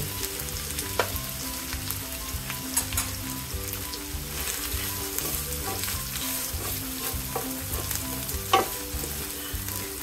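Nuts and raisins frying in a pot for Kashmiri polao, a continuous close sizzle running for about ten seconds with light stirring clatter and no voices.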